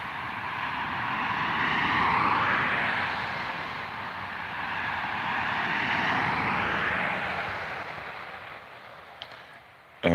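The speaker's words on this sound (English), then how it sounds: "Here comes a vehicle." Two vehicles pass by on a rural road, a broad rumbling roar that swells and fades twice over about ten seconds, heard from a distance outdoors with no talking.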